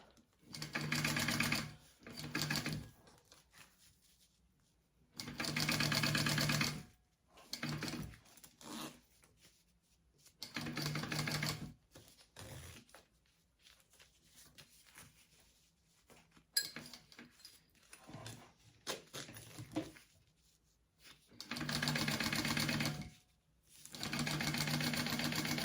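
A sewing machine stitches a seam along a zipper edge on a bag, running in short steady bursts of rapid whirring with quiet pauses between runs.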